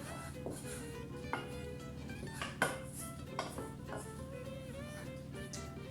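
Biscuit mixture being mixed in a bowl for festive biscuits, with scattered clinks and scrapes of a utensil against the bowl over a steady low background hum, no talk.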